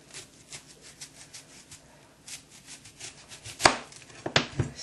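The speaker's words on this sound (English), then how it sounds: "the recipe calls for thinly sliced onions, so we're going to go do as thin as we can here" A knife thinly slicing red onions into rings on a board: a steady run of quick, crisp cuts, with a couple of louder, sharper chops near the end. No voices.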